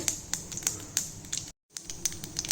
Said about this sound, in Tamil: கடுகு வெடிச்சிட்ருக்கு